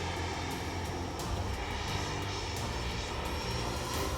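RC F-22 jet model airplane flying past at full throttle, its motor giving a steady loud whine and rush that holds throughout.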